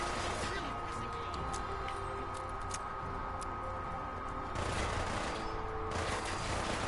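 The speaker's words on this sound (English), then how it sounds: "Somebody's up there with a Gatling gun of some sort." A Gatling gun in the video game Fallout 4 fires in a sustained, rapid rattling barrage that holds loud and dense throughout, with a voice talking over it.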